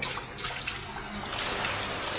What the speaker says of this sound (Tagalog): may tulo na siya